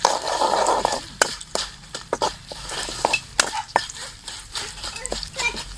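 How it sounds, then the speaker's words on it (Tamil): Spiced tamarind rice mixture being stirred in a pan with a spoon, giving sharp intermittent scrapes and clinks against the metal over a faint sizzle, close and moderately loud. "எல்லாத்தையும் மிக்ஸ் பண்ணி விட்டுடலாம்."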